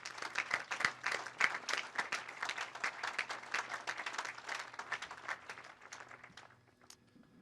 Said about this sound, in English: can we applaud again for Shiloh?